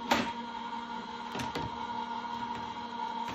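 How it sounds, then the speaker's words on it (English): An embossing folder rolling through a cardmaking embossing machine gives a steady mechanical whir with a constant hum and a couple of brief clicks, close and alone. "I'm starting with the open end of the folder, feeding into the machine first, and we're going to feed that through."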